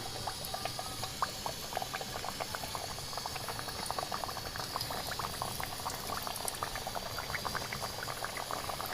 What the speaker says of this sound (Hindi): अब हम कचौरियाँ फ्राई कर लेते हैं जी।